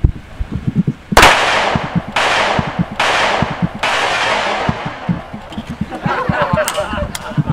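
Pistol shots at shooting practice ring out as four sharp, loud cracks about a second apart, each with a short echoing tail, while people talk and laugh nearby throughout.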